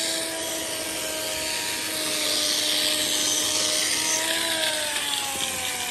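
An electric grinder working across a room's wall gives a loud, continuous whining hum, its pitch dipping slightly as the disc bites harder toward the end.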